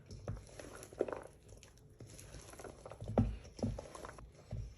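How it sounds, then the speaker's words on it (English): Soft, irregular crunching and grinding bursts, close and quiet, like a hand pepper mill being twisted, with small gaps between turns. "fresh pepper. Isn't that the greatest sound?"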